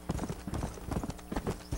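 Horse hooves clip-clop in steady rapid rhythm in the Red Dead Redemption video game, a loud close run of hoofbeats with no talk.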